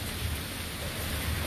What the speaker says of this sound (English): finally the storm made it here to us